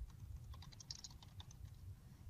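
Quiet typing on a computer keyboard as a search is entered. It makes a short run of soft, quick key taps over a low background rumble.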